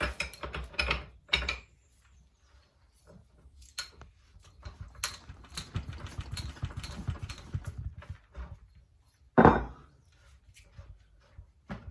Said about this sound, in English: if I just get my spanner and we'll take that fork cap off